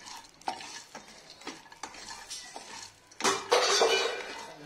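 Whole spices, star anise and mace, frying in a pan for chicken donne biryani, with stirring scrapes and clinks of a utensil against the pan, a louder burst of sizzling and stirring near the end.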